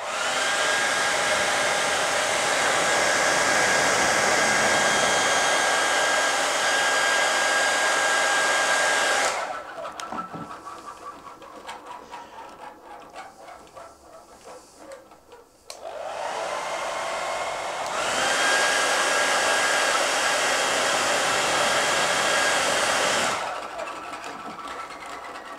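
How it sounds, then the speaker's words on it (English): A hair dryer blows loudly and steadily at a small wind turbine, cuts off for several seconds of clattering quiet, then roars back on and stops again. "we're going to use a hairdryer to turn the turbine because there's no wind"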